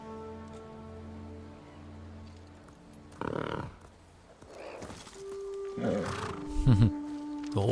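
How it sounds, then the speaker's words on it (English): A horse in the video game Ghost of Tsushima neighs and snorts over a low sustained musical drone, with a few louder breathy bursts toward the end and no speech. "The horse trying to comfort Jim."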